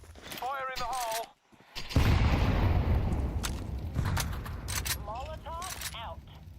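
Grenade blast in Counter-Strike during a Falcons vs PARIVISION BLAST Bounty match: a sudden loud boom with a long rumbling decay, set between short bursts of gunfire and other game effects, with players' voices speaking before and after.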